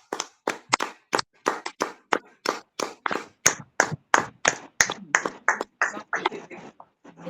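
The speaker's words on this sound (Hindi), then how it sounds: "हम एक ऊंचे तालियां लगाए कि परमेश्वर की महिमा करें" A women's fellowship congregation claps in worship, loud sharp handclaps in a steady rhythm, close and continuous, growing slightly busier toward the end.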